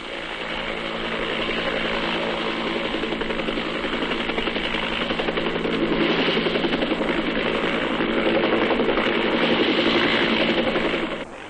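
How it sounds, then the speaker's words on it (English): RAAF Iroquois and US Army helicopters airlifting Australian troops in Vietnam, 1968, make a steady, loud rotor and engine drone that runs unbroken throughout, with no talk. "The RAAF Iroquois squadron flies most of the operational airlifts for the diggers, but the United States Army choppers frequently supplement them on big missions"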